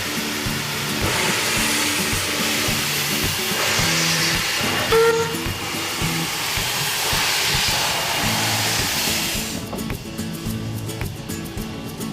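A double-headed train runs from Port Augusta to Quorn in South Australia's Flinders Ranges, rumbling along steadily with a low engine drone, hissing and rattling carriage noise, continuous and fairly loud throughout.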